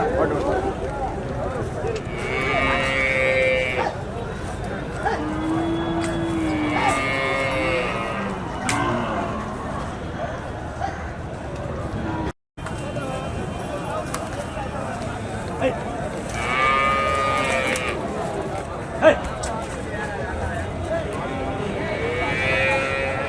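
Native cattle at a traditional livestock market in Poigai, with repeated moos and bellows rising over a steady crowd murmur and nearby talking throughout.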